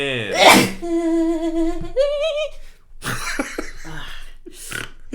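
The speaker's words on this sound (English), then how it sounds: "Sneezes take up a lot of effort and brain power." A loud, explosive human sneeze bursts out near the start, followed by voiced, tonal vocal noises and a stretch of noisy throat and breath sounds.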